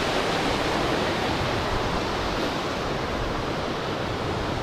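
Water flowing beneath a bridge at an old prison camp site, a steady broadband rushing wash with no breaks, fairly close and uniform throughout.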